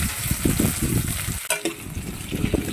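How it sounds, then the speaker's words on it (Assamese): Onions sizzle steadily in a pan for a home-style chicken dish, a close, dense crackle broken by a sharp clank of a utensil midway, with no one speaking. "পিঁয়াজখিনি এইদৰে অলপ সময় ভাজি থাকিব লাগিব, যেতিয়ালৈকে ৰঙচুৱা হৈ নাযায়"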